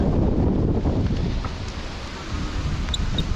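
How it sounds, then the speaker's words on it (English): Strong wind roars and buffets the microphone continuously on an off-road e-bike ride by the Rio Grande, a dense, loud rumble with no voices. "It's super windy out here too."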